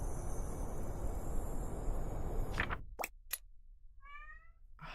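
A pet cat meows once, fairly faint and close, after a few soft knocks and taps in a quiet room, with steady background hum fading out just before.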